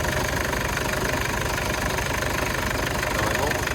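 A Ferrari engine running with its valves ticking, a loud, constant mechanical clatter over a steady idle drone, close up and unbroken from start to finish.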